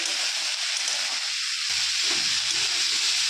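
Steady, loud hissing sizzle of pumpkin greens curry sautéing in oil in a pan, a continuous bright fry noise without speech.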